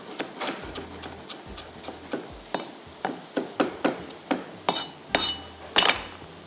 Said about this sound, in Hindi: अभी हम इसको पहले कटिंग करते हैं हरे धनिए को